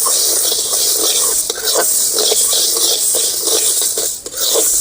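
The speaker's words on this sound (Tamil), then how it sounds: "நல்லா பொன்னிறமாக வறுத்துக்கணும்" Green moong dal dry-roasting in a hot pan while being stirred, giving a steady dry rustle and sizzle with repeated scraping strokes of a spoon across the pan, fairly close and continuous throughout.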